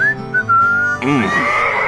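A melodic human whistle plays on the country station K-Rose in the game GTA San Andreas, a clear sustained tune with sliding notes, joined halfway through by a louder burst of music with wavering bleat-like tones.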